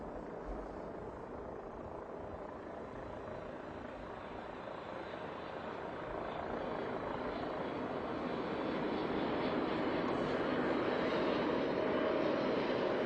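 Boeing 747-8 airliner coming in to land, heard as a broad, steady jet engine roar that slowly grows louder as it approaches, with no talk over it.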